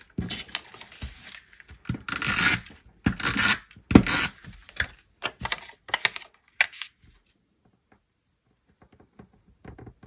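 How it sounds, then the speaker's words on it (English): Paper being taped down in a planner: close, crackly rustles and taps come in uneven bursts, then fade to near silence with a few faint ticks. "So I'm gonna tape this down."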